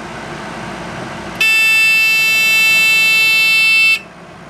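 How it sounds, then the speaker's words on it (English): A Little Giant VCMA-ULST automatic condensate removal pump sounds its high-level float switch alarm: a loud, steady electronic buzz that starts abruptly, holds for about two and a half seconds, then cuts off. "So I verified that the alarm is still working."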